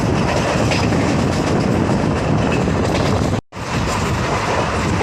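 A train runs at speed past Satona railway station on the Parbhani–Jalna line, a steady loud rumble of wheels and carriages with clickety-clack, broken by a brief sharp dropout before the roar resumes.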